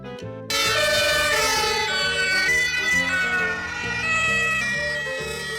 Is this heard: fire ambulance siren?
yes